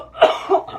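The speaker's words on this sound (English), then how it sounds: "I apologize on my cough." A single short cough during a tarot card reading, close and fairly loud, two quick bursts in under a second.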